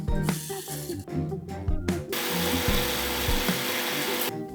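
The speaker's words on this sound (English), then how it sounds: "Now that the spices have cooled, I'm going to grind them into a fine powder." An electric spice grinder whirs through cooled whole spices for cranberry sauce, a loud close motor drone with shifting pitch as the contents rattle, stopping briefly and restarting before running steadily to the end.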